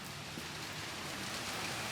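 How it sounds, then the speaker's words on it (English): Rain falling outdoors on a rainy day by a workplace with a forklift, a steady, even hiss of drops on surfaces throughout, with no talk. "It's a rainy day here,"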